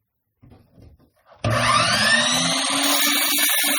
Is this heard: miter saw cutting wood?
yes